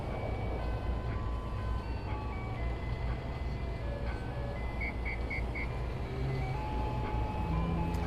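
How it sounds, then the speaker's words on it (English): Generic ice cream truck jingle playing on a street corner in Washington DC in winter, a repeating chiming melody over steady low traffic rumble throughout, moderately loud with no talking. "I don't know if the generic ice cream truck music is under copyright or not."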